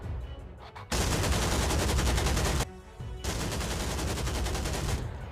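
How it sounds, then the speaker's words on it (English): German MG-42 machine guns open fire at a bridge battle in a wartime game scene, loud, dense bursts of rapid gunfire that break off briefly and then resume. "the German MG-42s open fire."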